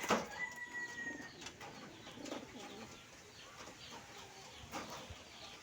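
Young pigeon squabs from a mixed breeder flock coo faintly and intermittently, distant and soft over a steady background hiss.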